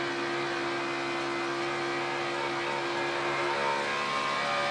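NASCAR Sprint Cup race car engine at partial throttle during qualifying at Texas, a steady, loud sustained drone with a constant pitch and no voices.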